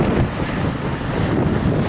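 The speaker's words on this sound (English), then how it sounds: "Quite windy." Strong wind gusts past an obelisk and buffets the microphone, making a steady, rough roar throughout with no voices.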